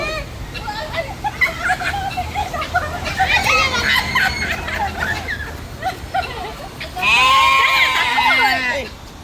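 Goats at a city farm bleat repeatedly, some calls loud and close, others more distant, mixed with children's voices and people talking nearby.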